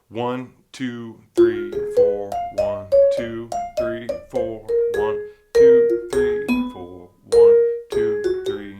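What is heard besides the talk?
vibraphone playing first phrase of a solo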